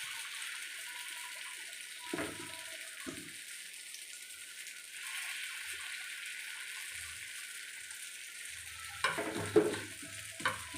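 Kuzhi paniyaram batter sizzles in the pan, a soft, steady hiss of frying with a few brief clinks and stirring scrapes, louder near the end.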